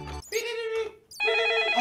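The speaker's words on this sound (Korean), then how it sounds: "전화 왔다" A telephone rings in a Minecraft family roleplay, two bright electronic ring bursts, loud and close, separated by a short gap, with a brief bit of voice at the very start.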